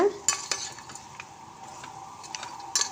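Mutton with chili powder stirred in a pan for a fry, a spoon scraping in scattered clicks over a faint, steady sizzle; no voices.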